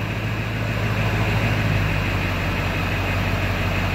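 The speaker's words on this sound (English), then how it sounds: "whisper mode is supposed to be like low RPM when you're at like a drive-thru" A Ford 7.3 Powerstroke diesel in a Super Duty truck idles at low RPM in whisper mode, a steady, even rumble with constant loudness and no speech throughout.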